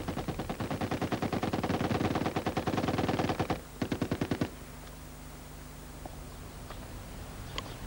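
Belt-fed machine gun firing 7.62 rounds from a disintegrating belt lets off long rapid bursts of sharp, loud shots, a brief pause, another short burst, then quiet ambience.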